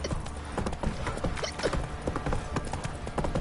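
Hooves of Roach, a horse in a PS4 video game, clip-clop in a steady quick rhythm, close and fairly loud, with mechanical game sounds in the background.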